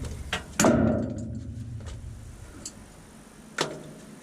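Snips cut through drywall flat box parts in a few sharp, close clacks, one loud snap early and another near the end, with faint shuffling between.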